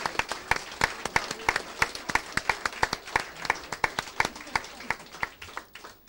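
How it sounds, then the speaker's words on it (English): A modest audience at a college drama event claps in a sparse, uneven patter of individual hands, each clap sharp and distinct, continuing at a moderate level throughout. "so can we just quickly give her a round of applause?"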